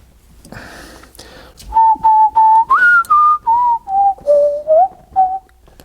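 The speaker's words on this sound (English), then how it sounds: "For anybody who wants to know the tune I'm whistling" Someone whistles a tune up close, a clear run of short sustained notes rising and falling in a steady phrase.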